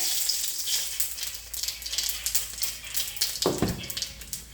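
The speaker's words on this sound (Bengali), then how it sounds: "ফোড়ন দিয়ে দিলাম গোটা জিরা" Whole cumin seeds tempering in hot oil for a green banana and stinging catfish curry: a bright crackling sizzle, close and continuous, with a brief clatter near the end and no talk.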